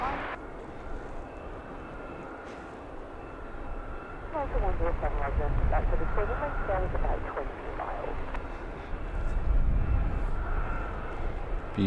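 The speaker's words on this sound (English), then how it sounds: "Beautiful looking corporate jet." Corporate jet at London Luton Airport, a steady broad engine roar rising and holding through most of the clip, with someone talking over it.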